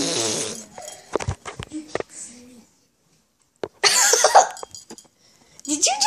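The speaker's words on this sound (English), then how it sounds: "Did you just really fart?" A fart sounds amid loud nearby talk and laughter in a comedic dating scenario, with short bursts and noisy sputters breaking up chatty voices, and a brief silent gap in the middle.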